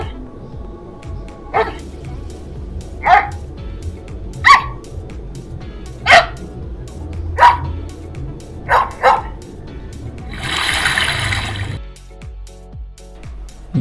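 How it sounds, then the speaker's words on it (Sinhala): An animated dog from a Google search barks about seven times in a loose rhythm, the sharp yelps loud and close, followed by a short burst of hissy noise near the end. "ඉතින් බුරනවා, ඉඳ ගන්නවා,"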